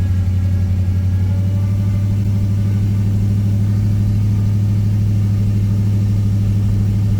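A car engine drones steadily with a persistent whine as the car is driven, a loud continuous hum that holds constant the whole time with no talking.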